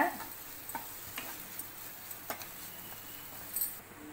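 Potato stuffing with fresh coriander leaves stirred in a pan, a quiet scraping stir with a few soft spoon ticks and a faint sizzle, no voices.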